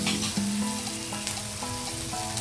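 Ginger garlic paste sizzles steadily in a hot pan, close and continuous, with a few light scraping stirs over the frying hiss and no talk.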